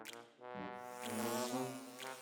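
Cartoon bees in a preschool animal puzzle game give a short, soft, humming buzz that wavers in pitch for about two seconds.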